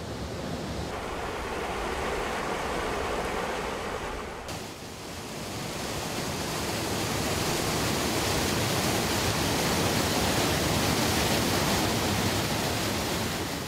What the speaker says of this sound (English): The first Yongso waterfall appears dangerous, but has a mysterious air to it.